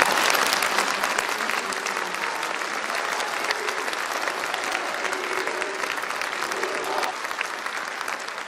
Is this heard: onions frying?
no